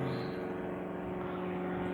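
An airplane passing overhead, a steady broad engine roar that holds level and fairly loud throughout, with no talk over it.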